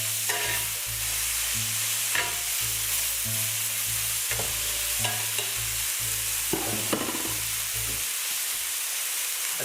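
Meat browning in a hot pan, a loud continuous sizzle with repeated scraping stirs and a low hum underneath, no voices.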